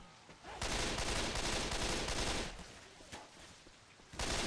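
Sustained automatic gunfire roars in Left 4 Dead 2, a long loud spray of shots that eases off into scattered bursts before another loud volley starts.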